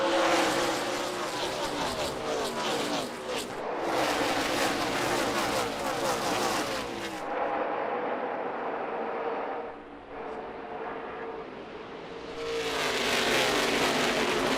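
NASCAR Xfinity race cars start the race at Phoenix, a pack of engines roaring loud and continuous, with a dip midway as cars pass before the roar swells again.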